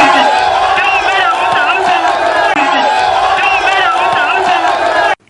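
A large crowd of Tanout residents at a street gathering shouts and cheers, a loud, dense, continuous roar of many voices with ululating calls that ends abruptly.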